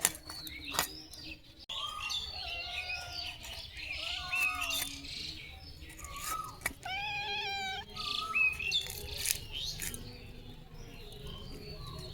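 A cat meowing now and then amid birds chirping and crows cawing outdoors, with a few sharp knocks; moderately close, no talking.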